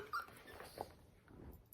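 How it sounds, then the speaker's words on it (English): Soft dog whimpers come as a few brief, faint whines spread across a quiet indoor background, with no talking. "My dog is whining."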